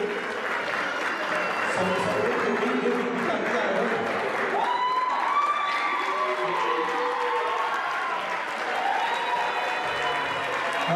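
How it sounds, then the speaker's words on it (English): Loud crowd applause at a wedding reception, continuous clapping mixed with cheers, whoops and excited voices throughout. "everybody give them a big round of applause like we're in church"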